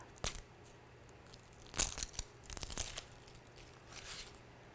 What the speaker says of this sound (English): I like to get the peel off, the outer skin, the dry papery stuff